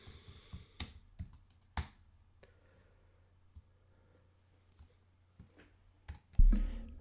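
Typing on a computer keyboard, close scattered clicks and short bursts of keystrokes with brief pauses, a louder thump near the end, and no talking.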